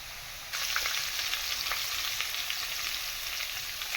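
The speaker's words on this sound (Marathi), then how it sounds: "तर आता आपण कांदा घालूया." Sliced onion hits hot oil with cooked potatoes for kande pohe, and a steady close sizzle jumps louder as it goes in, then keeps frying with soft crackles.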